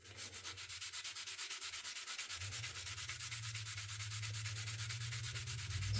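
A circuit board being rubbed clean with a scrubbing tool, making a continuous rapid rasping scrub with an even back-and-forth rhythm, close up, over a low steady hum.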